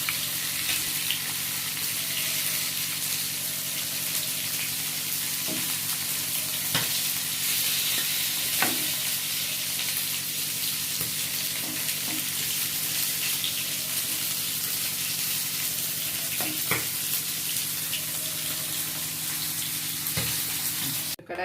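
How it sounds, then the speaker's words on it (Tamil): Chicken pieces frying for chicken mandi sizzle steadily in a pan, with scraping stirs and occasional clinks of the utensil against the metal throughout, and no talking. "இப்போ நல்லா ஃப்ரை ஆகிடுச்சு. இந்த பக்கம்லாம் நல்லா ப்ரௌன் கலரில் ஃப்ரை பண்ணுறதுக்கு ஆயிடுச்சு."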